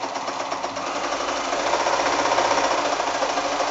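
A sewing machine stitches a quarter-inch seam on a wonky triangle quilt block, its close, steady motor whir and fast needle chatter running continuously without any talk.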